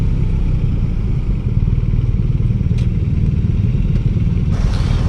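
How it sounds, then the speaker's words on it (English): A BMW motorcycle at a demo day in Austin, Texas, shifting down into second and then first without the clutch, its engine a steady close rumble throughout with a couple of faint clicks from the gearbox. "See that downshift, clutchless downshift into second and into first"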